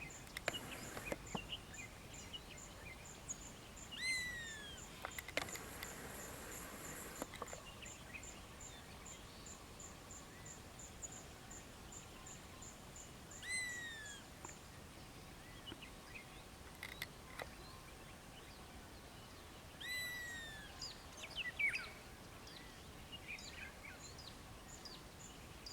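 A grey-headed bushshrike gives short, repeated descending whistled calls in a few spaced bursts, moderately distant over a constant background of insects and crickets.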